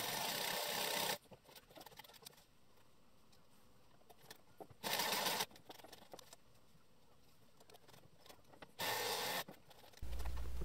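A sewing machine stitches a diagonal seam on a cycling cap panel in four short, loud whirring bursts, with quiet handling sounds in the pauses between runs.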